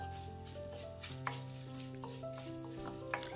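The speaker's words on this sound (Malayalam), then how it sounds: "ആ നെയ്യുടെ നടുക്കോട്ട് കുറച്ച് കായപ്പൊടിയുടെ ചേർത്തൊന്ന് ഇളക്കിയെടുക്കാം" Asafoetida powder stirred into hot ghee with crispy curry leaves and chillies, a steady close sizzle with light scraping stir strokes throughout.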